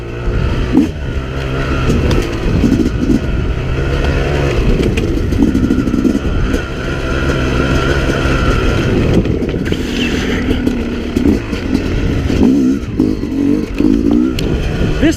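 A 2017 Yamaha YZ250X two-stroke dirt bike ridden through scrub oak trails, its engine droning loudly and steadily with rising and falling revs throughout, close to the rider and without talk.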